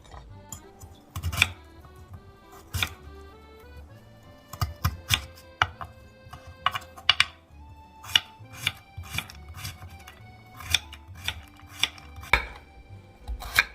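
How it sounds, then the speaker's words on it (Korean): A knife chops radish into thin strips on a cutting board for oyster jeotgal, producing a series of crisp, close taps in an uneven rhythm with brief pauses between runs. "얄팍하게 썰어 넣도록 하겠습니다."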